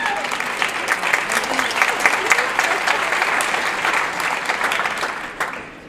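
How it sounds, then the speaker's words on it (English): Audience applause at a banquet, a dense, steady clatter of many hands clapping continuously, loud and close, tapering slightly at the end. "Now you can clap again."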